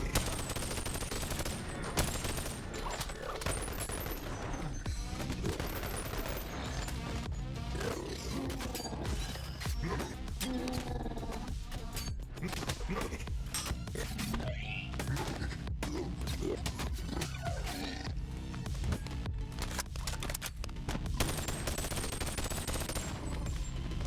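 Rapid, dense gunfire rattles almost continuously while shooting enemies in the VR game Boneworks, with crashes and growling effects mixed into a loud, unbroken barrage.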